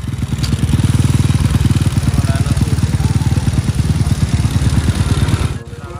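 A kick-started motorcycle with a lightened, drilled chassis and keyless entry runs with a steady, loud, rapid low-pitched engine pulse for about five seconds, then cuts out abruptly near the end.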